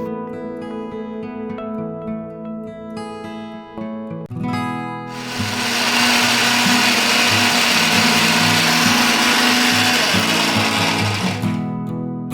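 An electric grinder whirs loudly and steadily as it blends tender coconut flesh into a paste. Before it starts, a rhythmic, tonal mechanical hum is heard, and the grinding runs continuously to near the end.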